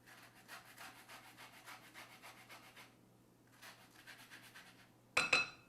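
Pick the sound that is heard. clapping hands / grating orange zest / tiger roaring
grating orange zest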